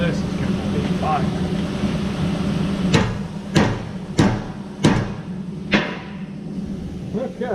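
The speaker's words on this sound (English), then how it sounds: "Go with the hammer." Five sharp metallic hammer blows on a Cadillac CTS-V differential ring out at uneven intervals over a low background hum, each strike loud and close.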